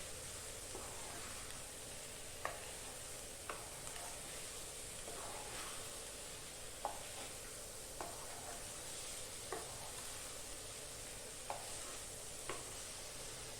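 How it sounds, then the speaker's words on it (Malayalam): Egg and potato mixture with coriander powder being stirred in a pan, a faint sizzle under a hiss with sparse spoon scrapes and taps every second or so. "മല്ലിപ്പൊടി ഇട്ട് ഒന്ന് ഇളക്കുക"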